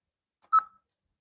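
A walkie-talkie emits a short electronic group call tone, a single clear beep lasting a fraction of a second in otherwise quiet surroundings.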